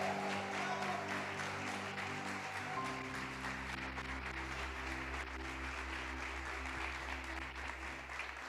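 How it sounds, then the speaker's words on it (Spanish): A church congregation at a Wednesday evening service claps to welcome pastor Carlos López, a steady, even wave of applause sustained throughout over a low hum from the hall's sound system. "Lo recibimos con un aplauso en el nombre del Señor."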